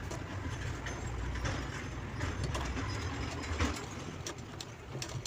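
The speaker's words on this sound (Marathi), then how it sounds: "आता आपण दाब स्टिच देऊन घेऊया." Sewing machine stitching a sling bag, a fast continuous mechanical rattle with ticking clicks, fairly quiet and close, with no voices.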